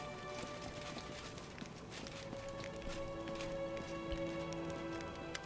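Horse hooves clip-clop in a steady, rhythmic walking pace in the fantasy video game Pathfinder: Wrath of the Righteous, fairly faint, with soft ambient tones sustained beneath.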